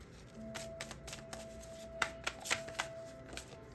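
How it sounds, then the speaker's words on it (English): Tarot cards being shuffled by hand in a quiet room, a steady run of soft riffling flicks and slaps with a few sharper snaps toward the end, close and fairly quiet. "I'm just playing with my cards here"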